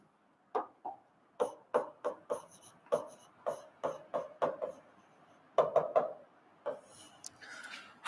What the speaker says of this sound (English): I am writing